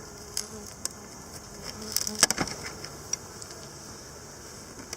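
Honey bees buzzing softly during an open hive inspection around a honey super, a faint steady drone with brief louder passes and light clicks and taps from handling the frames.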